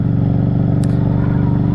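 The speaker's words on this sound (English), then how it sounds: "I want to listen to my motorcycle exhaust" Harley-Davidson Street 500 motorcycle exhaust, a steady loud low idle-like rumble with even rhythmic pulsing, close and continuous, with a brief high click partway through.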